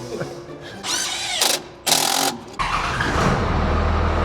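The RatBack car's engine cranks with a whirring, ratcheting starter in two short bursts, then catches and settles into a steady, low idle rumble, loud and close, with no talking.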